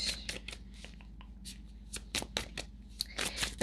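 Tarot cards being shuffled for a pick-a-card reading: soft, irregular riffling and slapping of the deck in quick bursts, close and fairly quiet, with brief pauses between shuffles and no speech.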